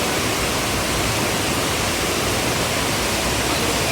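Flowing stream water on an off-season Sri Pada hiking trail through Dehenakanda and Mookkuwatta, a dense, steady rushing wash that stays constant and fairly loud, with no other sounds standing out.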